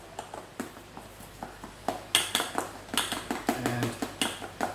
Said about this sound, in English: just give it a really nice stir